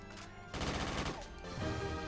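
Rapid automatic AK rifle fire in Call of Duty: Black Ops 3 custom zombies on a pirate-themed map, a dense burst of loud close shots starting halfway through and running to the end over game sound.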